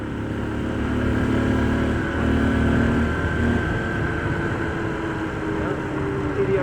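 A Honda XR150L motorcycle, five years old and recently fitted with a replacement CDI, runs steadily on a ride around the block, a constant mid-pitched engine drone with slight swells in speed, heard fairly close.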